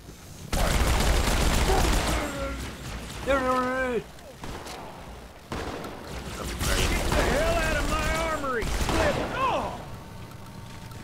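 Rapid bursts of Halo 2 gunfire with streaky whooshing shots fill most of the stretch, broken by short pauses and warbling, sweeping energy-weapon tones, loud and close throughout.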